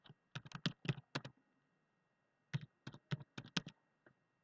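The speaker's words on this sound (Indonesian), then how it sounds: "Langsung aja kita ketik tidak lulus." Computer keyboard typing while entering an IF formula in a spreadsheet: two close, crisp bursts of rapid keystrokes separated by a short pause, with no speech.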